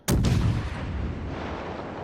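A naval artillery barrage in the World of Warships game lands with one loud, sudden boom, followed by a long, rumbling roar that slowly fades.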